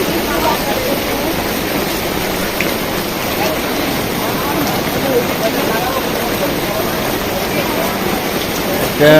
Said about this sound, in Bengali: অনেক মানে জোরে বৃষ্টি পড়তেছে